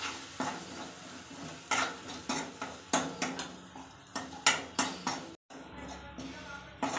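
Roasted spices, with coriander powder and salt, are stirred in a pan: a soft sizzle under a run of sharp, rhythmic scrapes and taps of a spoon against metal, close and moderately loud.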